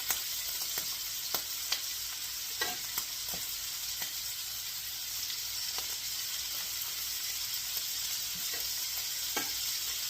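Seasoned meat sizzling and crackling steadily in hot grease, a continuous close fry with scattered sharp pops throughout and no talking.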